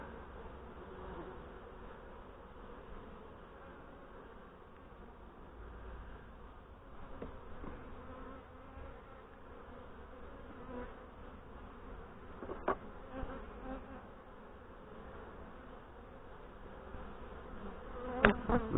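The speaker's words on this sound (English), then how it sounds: "Man, there's a lot of bees in this hive." Dense, steady buzzing of many honey bees in an opened hive during a late-September inspection, a continuous drone throughout with a few brief close clicks near the end.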